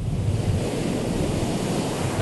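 Ocean surf rolls in at the beach as a dense, steady roar of breaking waves, close and loud, with wind rumbling across the microphone and no voices.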